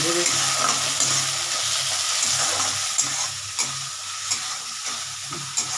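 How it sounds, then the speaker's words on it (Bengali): Steady, loud sizzling of gravy frying in hot oil, with occasional soft scrapes and clicks of stirring. "তেলটার মধ্যে এটা এই গ্রেভিটা আমরা ভেজে নিচ্ছি"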